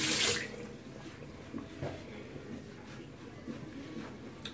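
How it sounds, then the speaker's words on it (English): Hands being washed at a sink with hot water dumped out, beginning with a brief loud gush that settles into a quieter running, splashing trickle with faint clunks. "I'm gonna wash my hands off and dump this hot water out."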